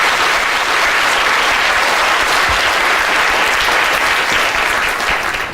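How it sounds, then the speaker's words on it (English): Loud, dense applause from a large audience at a live science talk, sustained evenly and close throughout with no talk over it. "Well, a round of applause for fear."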